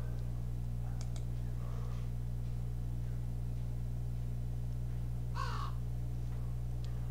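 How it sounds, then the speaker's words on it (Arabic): A crow sound effect is played in a game audio mixer: a raspy caw sounds near the end and a fainter one early on, both over a steady, loud low hum. "في صوت عندي مثلا زي صوت الغراب."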